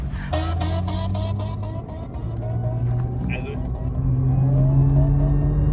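A Nissan 350Z engine pulls hard at full throttle, a loud, steady engine drone that climbs in pitch through the gears on a snowy outing, heard close under ongoing talk.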